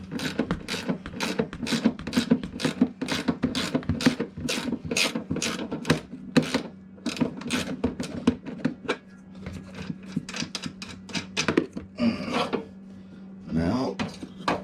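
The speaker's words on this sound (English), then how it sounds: "So use a ratcheting wrench, man." Ratcheting wrench clicking steadily as it turns a bolt during bag installs on a Harley-Davidson FXDX motorcycle, a rapid run of sharp close metallic ticks with brief pauses, and a few spoken words near the end.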